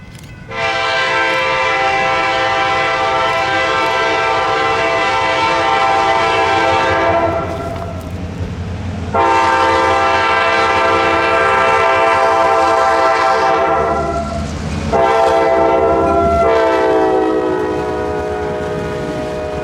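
A KCS freight train passes close by, its horn sounding in three long blasts with short gaps between them, over a steady rumble of the rolling train; no voices are heard.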